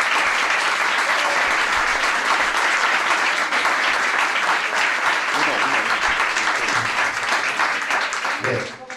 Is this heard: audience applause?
yes